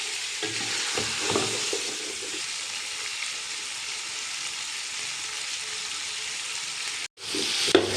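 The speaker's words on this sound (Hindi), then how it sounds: "हमें इनको भूनते हुए तकरीबन टोटल 10 से 12 मिनट हो चुके हैं।" Beef trotters (paya) frying in a pot produce a loud, steady sizzle with occasional stirring scrapes near the start, a sudden brief dropout near the end, then the sizzle returns.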